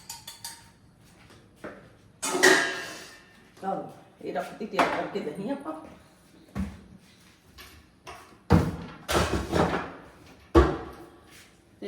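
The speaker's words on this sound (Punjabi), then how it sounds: "ਆਪਾਂ ਨਾ ਦਹੀਂ ਹੈ ਜਿਹੜੀ ਇਹਨੂੰ ਬੀਟ ਕਰ ਲੈਨੇ ਆ" Curd is beaten and mixed in a bowl, with sharp, uneven knocks and scrapes of the utensil against the bowl in bursts, someone talking in between.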